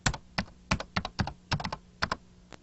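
Short bursts of keys pressed on a computer keyboard, typing a word in quick clusters with brief pauses, close and clear with no talk.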